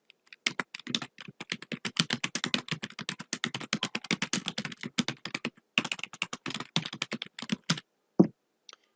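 Typing on a computer keyboard, rapid close keystrokes clattering steadily for several seconds with a brief pause, then a few final isolated key presses.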